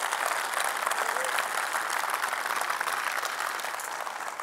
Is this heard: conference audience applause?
yes